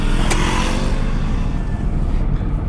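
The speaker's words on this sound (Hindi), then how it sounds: "भाई हमारे पीछे एक बाइक वाले हैं" A motorcycle engine drones loudly and close by behind a Maruti 800 car, a continuous rumbling roar without a break.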